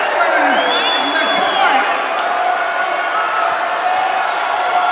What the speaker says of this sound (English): the huge crowd from Payson Seymour on their feet